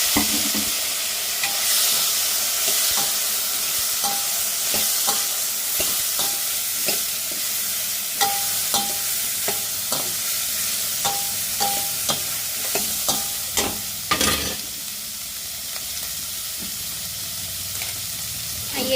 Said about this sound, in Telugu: కొబ్బరి కూడా వేసుకొని ఫ్రై చేస్తాను